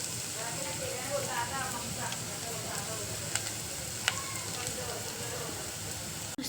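Onion and curry leaves frying in a pan give a continuous soft sizzle with scattered spattering pops and a couple of sharp utensil clicks, moderately quiet throughout.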